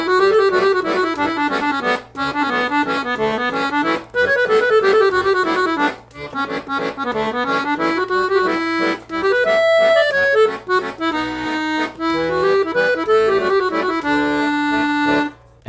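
A 120 bass accordion plays a full passage of a song's second section, chords and melody running steadily with brief breaths between phrases, close and alone with no talking.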